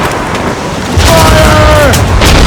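Ship cannons firing in the video game Assassin's Creed Rogue: heavy booming blasts over a rumbling low roar, with a loud surge about a second in and a shouted voice over the battle.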